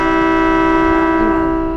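A loud, sustained two-tone horn blast from a Chiba Urban Monorail suspended monorail car at its depot, a rich chordlike tone holding steady close by, then beginning to fade at the end.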